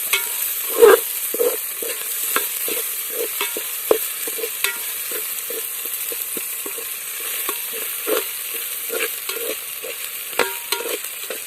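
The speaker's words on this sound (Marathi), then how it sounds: "तर आता टाकायचं आहे आले आणि आता हे आपल्याला थोड्या वेळ असंच पुन्हा तळून घ्यायचं आहे" Chopped ginger fries in a pan for Maharashtrian masale bhat while a spoon scrapes and stirs in a steady series of soft knocks over a constant hiss of oil.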